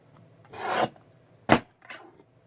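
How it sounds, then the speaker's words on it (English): Lace being trimmed down along its side makes a rasping, rubbing cut lasting about half a second, then two shorter scrapes. The sound is close and fairly loud, with no voices. "I think I'm going to go and trim down the side of this lace"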